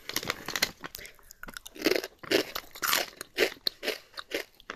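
Cheeza cheese crackers crunch loudly and close up as someone bites and chews, the crisp crackles coming in repeated bursts.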